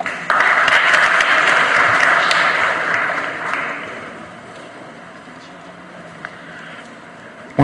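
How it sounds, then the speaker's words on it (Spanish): An audience at a formal legal plenary session gives a strong round of applause that is loud and dense at first, then thins and fades over the last few seconds, leaving a quieter room. "Le brindamos un fuerte aplauso"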